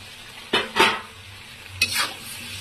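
Raw jackfruit stirred into a spice mix frying in a pan, with two or three scraping, sizzling strokes of a spoon over a low background hiss.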